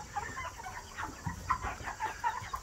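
About 65 meat chickens, loaded up, cluck and murmur in short, overlapping bursts close by, a busy continuous chatter with no speech.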